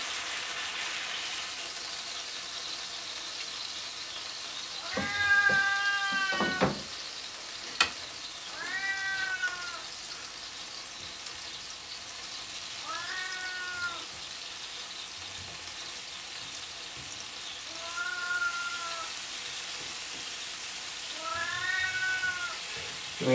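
A house cat meows repeatedly for steak in a kitchen, about six drawn-out, rising-and-falling cries spaced a few seconds apart, close by over a faint sizzle of steak and mushrooms frying in a pan.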